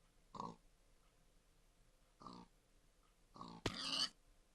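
A pig in a video game gives a few short grunting oinks spaced apart, faint and close, followed by a louder, harsher squeal-like burst at the end.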